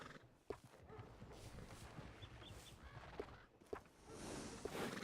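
A horse in the video game Red Dead Redemption 2 gives a few clopping hoof steps and stirs over steady outdoor game ambience, with a louder thump near the start and another toward the end.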